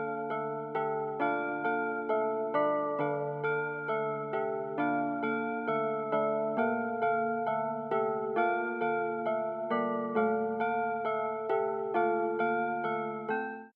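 An Arturia MiniFreak synthesizer on a low bell preset plays a repeating chord progression for a trap beat, with steady struck chords ringing in a regular pulse, bright metallic harmonics, close and even, with no talking.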